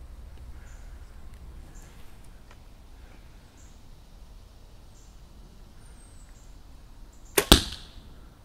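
An arrow shot from a bow strikes a homemade archery target at about ten yards, one sharp, loud impact near the end after a stretch of quiet outdoor background.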